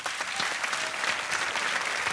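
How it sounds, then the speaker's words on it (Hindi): An audience on a Hindi TV game show gives a dense burst of steady applause, loud and close, filling the short stretch without pause. "तालियां बजती रहें इनके लिए।"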